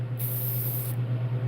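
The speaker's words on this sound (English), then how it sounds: "If you're spraying directly on, you kind of want at least 2 to 3 inches away from the actual bait itself." Airbrush spraying paint onto a fishing lure in a realistic bluegill pattern, one close, loud hiss of just under a second over a steady compressor hum that continues before and after.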